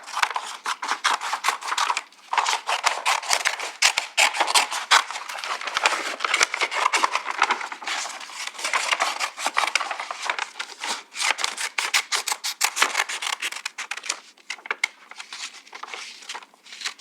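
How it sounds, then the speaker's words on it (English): Scissors snip rapidly and continuously through a flattened paper grocery bag, cutting a wide strip with dense crisp crunching snips close by and brief pauses, no talking. "We'll cut a nice wide strip."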